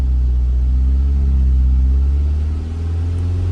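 Audi TT MK1 engine held at raised revs while idling stationary, a loud, steady low rumble close by with a brief slight dip near the end, no talk.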